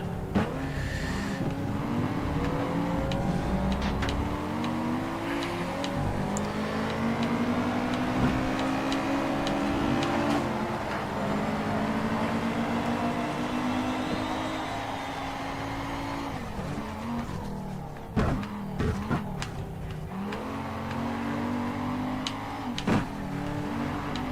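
Racing car engines in an Xbox 360 racing video game drone and whine continuously, pitch rising and falling through gear changes, with a few sharp knocks near the end.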